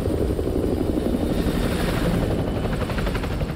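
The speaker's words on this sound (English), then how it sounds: "Enemy helo patrolling the perimeter." Enemy helicopter patrolling a perimeter in Call of Duty Modern Warfare 2 Remastered, a steady, moderately close rotor thump and engine drone with no break and no talking.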